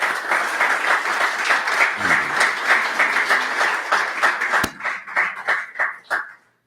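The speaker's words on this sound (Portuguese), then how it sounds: "Dê um aplauso a Jesus por ela." A church congregation applauds, a full wash of clapping that thins out into a few scattered, distinct claps before stopping, with no speech over it.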